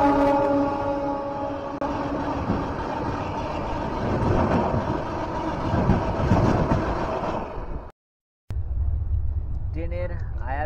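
Panagarh–Kota Express 13237 running on rails, a steady rumbling roar with rattling and clatter from the coaches, then a brief cut and a quieter stretch where a voice speaks over continued rumble.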